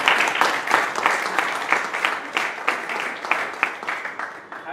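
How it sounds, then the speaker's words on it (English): Audience applause at a Toastmasters committee installation, steady clapping from a crowd with regular sharp claps standing out, sustained at moderate level for several seconds. "So give me an applause, please."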